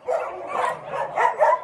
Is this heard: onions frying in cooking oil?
no